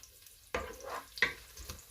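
Onion sizzles faintly in a hot pan, with soft scraping stir strokes coming in a few brief bursts, quiet and close with no talking.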